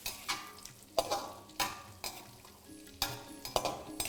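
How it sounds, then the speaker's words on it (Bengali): Cashews and raisins frying in a pan, with a soft sizzle broken by sharp, irregular scrapes and clinks of a spatula stirring against metal, close up and with no talking. "তারপর একই সাথে দুটোকে ভালো করে একটু ভেজে নিন।"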